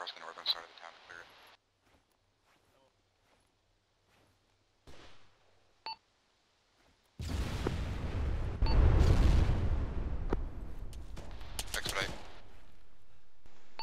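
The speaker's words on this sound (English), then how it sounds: "Big explosion just went off." In a large-scale military shooter game, a heavy explosion erupts after scattered beeps and brief bursts, a loud, booming blast with a long roaring tail that lingers, punctuated by further sharp cracks.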